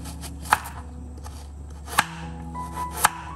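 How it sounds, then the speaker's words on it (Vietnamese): A knife cuts through jicama on a cutting board for steamed pork dumplings, giving three sharp chops spaced more than a second apart over a quiet kitchen background. "Trước tiên thì mình sẽ cắt củ sắn ra nè."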